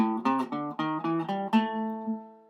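A guitar plays a run of single notes up a blues scale, each note plucked cleanly, the last one left ringing out and fading.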